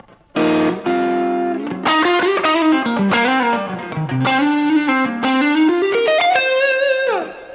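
Electric guitar notes and chords played alone through a reverb preset on a GFI Systems CabZeus Stereo pedal, with a lush, lingering wash around them and sustained tails ringing between phrases.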